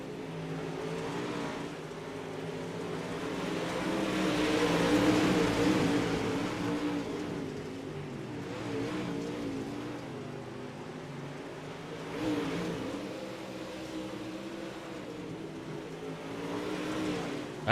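Race cars roar around a dirt oval in an UMP championship feature, a dense blend of engines with a swelling pass around five seconds and another surge near twelve, steady and fairly loud with no voices.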